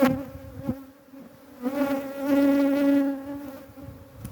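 Honey bees swarm and buzz around open hives and freshly cut comb at an apiary being set up, a dense, steady drone of many wings close by that swells and fades as insects pass, with no talking.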